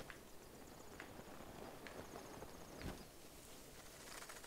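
A horse's hooves clip-clop at a steady walking pace in Zelda: Breath of the Wild, a quiet repeated patter of hoof falls over faint game ambience.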